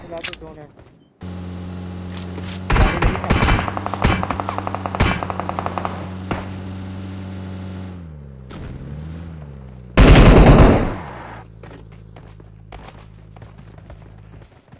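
Rapid automatic gunfire from the BGMI mobile battle royale game, with bursts of shots over a steady game soundscape and one loud blast near the end, while a player talks over it.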